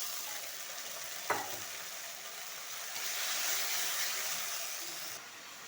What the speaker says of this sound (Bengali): দিয়ে দেবো আদা বাটা, সামান্য জল দিয়ে একটু কষাবো।